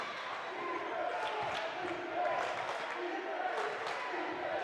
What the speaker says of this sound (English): Crowd on their feet, getting loud.